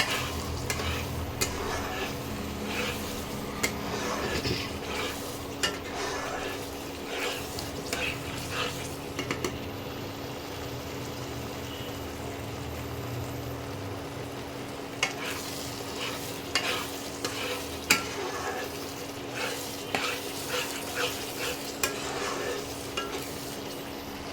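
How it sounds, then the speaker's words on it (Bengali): Masala frying in oil in a pan for a pompano fish curry, stirred steadily with a utensil; a continuous close sizzle carries through with scraping strokes and occasional clinks against the pan, no talking. "এই দেখো তেল ওপর দিয়ে ছাড়তে আরম্ভ করেছে মশলা থেকে।"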